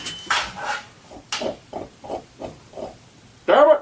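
Cartoon pigs from the Angry Birds movie oink in a run of short, separate grunts, about eight evenly spaced snorts, with a louder squeal and clatter at the end.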